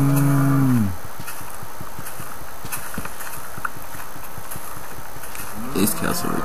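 Cows in the Minecraft video game give a loud, drawn-out low moo at the start, followed by soft hoof-like clip-clop steps and game ambience, with another brief moo near the end.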